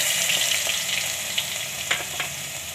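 Ginger, curry leaves, fenugreek seeds and cloves crackle and sizzle in hot oil for tempering a moong dal curry, a steady close frying hiss broken by a few sharp pops, with no voices.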